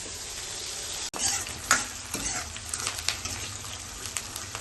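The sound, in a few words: paneer frying lightly in a pan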